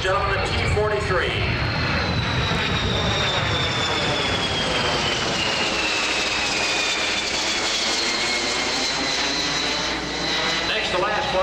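An Air Force T-43 jet passes at Randolph Air Force Base during an air show, a loud roaring engine wash with a falling whine, continuous throughout.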